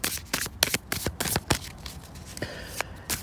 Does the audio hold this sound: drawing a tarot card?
yes